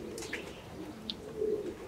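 Racing pigeons at a breeder's loft in Muntenia, Romania, give a soft, low cooing that rises briefly near the end over a quiet background.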